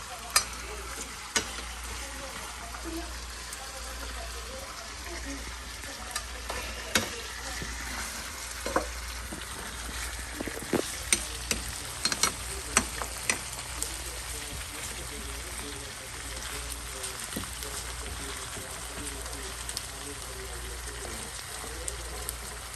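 Steak sizzles and fries in a pan at home, a steady crackling hiss broken by scattered sharp pops and spits, with people talking nearby throughout.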